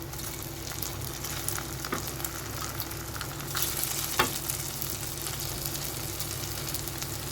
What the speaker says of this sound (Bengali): কড়াতে সর্ষের তেল দিয়েছি, আর সর্ষের তেলের মধ্যে এই ধোকাগুলো আমি হালকা করে ভেজে নেব।